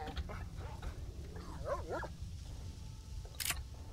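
Dogs in S.T.A.L.K.E.R.: Shadow of Chernobyl give several short, fairly faint yips and barks over a low ambient rumble, followed by a sharp burst of noise.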